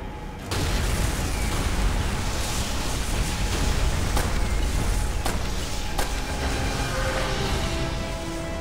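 Demolition charges in the World War II shooter Call of Duty: World at War burst with a sudden loud boom, then a sustained heavy rumble and roar of blast debris continues at near-constant loudness, with a few sharp cracks inside it.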